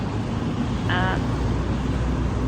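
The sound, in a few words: road traffic noise outside an exhibition centre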